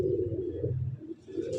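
A pigeon hen of an old breed, light-bodied with fine feet, gives low, throaty coos close by, in soft rolling bursts with a short pause between them.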